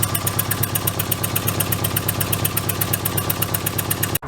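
Subaru boxer engine running with a giant exhaust leak from loose, stripped flanges, a steady rapid chuffing and ticking pulse that stays loud and even throughout, with no talk over it.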